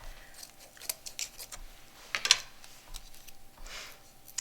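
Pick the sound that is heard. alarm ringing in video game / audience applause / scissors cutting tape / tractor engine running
scissors cutting tape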